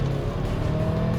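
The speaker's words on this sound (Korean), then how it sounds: "살짝만 속도를 낮춰가지고 좀 가속을 해볼게요. 그냥 40km 언저리에서 쭉 밟아보면은" A Hyundai Palisade with a 2.5-liter gasoline turbo engine accelerating from about 40 km/h, a steady, moderate engine drone heard from inside the car with no talking.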